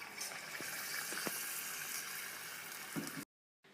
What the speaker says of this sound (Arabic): رح نقلي مكعبات الدجاج